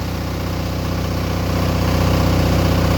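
An Onan 12.0 DJB-MS diesel generator runs steadily with no load, giving a loud, even, close-up drone with a fine rhythmic chug and no voices.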